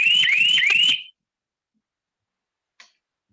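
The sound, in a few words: buzzer alarm on agricultural sprayer to scare wild animals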